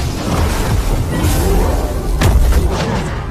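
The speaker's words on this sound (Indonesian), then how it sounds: "terjadi ledakan di sana." Explosion effect from an animated martial arts series: loud, sustained rumbling booms with a sharper crash in the middle, dense and continuous throughout, with no voices.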